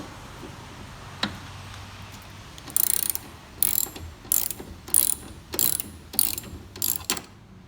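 A hand ratchet turns a 17 mm bolt inside an NA Miata during a soft top install. About eight crisp, close ratcheting bursts come in a steady rhythm, with short pauses between strokes.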